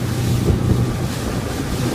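A Boston Whaler Nantucket powered by a new Mercury 150 four-stroke outboard cruises at about 30 mph, a steady engine drone mixed with loud wind buffeting and rushing water, with no break throughout.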